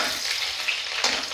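Sliced onion frying in leftover oil in a pan before chicken goes in, a dense close sizzle with soft stirring noises and no talk.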